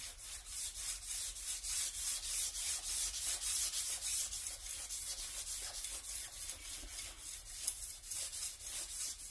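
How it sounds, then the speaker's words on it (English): Sandpaper is worked back and forth over a car crankshaft journal, making rhythmic, evenly paced rasping strokes, about two per second, close and clear with no voices. "make sure the sandpaper stays centered, and then just go back and forth."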